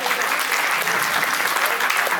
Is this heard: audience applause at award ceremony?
yes